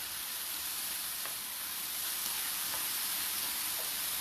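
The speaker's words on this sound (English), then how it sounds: "I'm going to go ahead and add in my coriander. Stir that around a little bit." Coriander sizzles in a hot pan with a steady, bright hiss throughout, while faint scraping stirs surface now and then.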